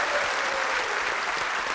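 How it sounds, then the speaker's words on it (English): A studio audience on a live paranormal TV show breaks into brief, dense applause, a steady roar of many hands without speech. "Give him a round of applause for Ben there."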